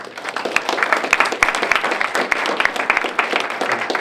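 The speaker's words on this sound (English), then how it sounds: "So round of applause, thank you for our judges." A Startup Weekend audience in Blacksburg applauds the judges, many hands clapping in a lively, uneven burst with distinct sharp claps standing out near the listener.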